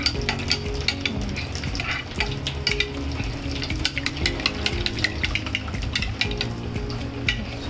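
Yogurt mixture for hilsa and pomfret is beaten and mixed in a bowl, giving rapid, uneven scraping and clicking strokes, fairly close and continuous, with faint kitchen clatter.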